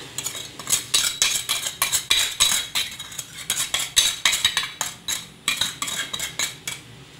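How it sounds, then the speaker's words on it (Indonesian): Spoon stirring a strawberry Pop Ice drink mixture with salt in a container, a quick, regular series of close scraping clinks, about two to three strokes a second, with no talking. "kami aduk ya teman"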